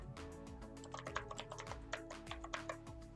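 Rapid typing on a computer keyboard, with a steady run of light plastic key clicks in an uneven rhythm, close and fairly quiet, and no talk.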